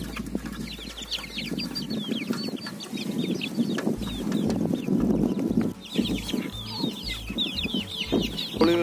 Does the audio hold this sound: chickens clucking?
yes